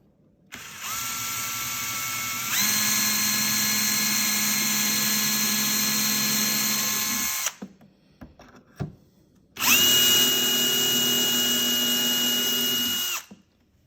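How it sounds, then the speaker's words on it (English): A power drill whines loudly in two long, steady bursts, drilling clip holes through a jig in a drawer, separated by a short pause with a few small clicks and knocks. "we've got our little jig on here to drill the holes for the clips"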